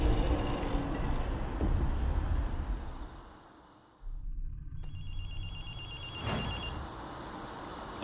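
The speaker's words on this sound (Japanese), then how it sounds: "電話の音が聞こえないか。" An old-style telephone bell rings in the video game Ghostwire: Tokyo, a steady trilling ring over a dense game ambience, briefly dropping out around the middle before resuming, with no talk in the clip.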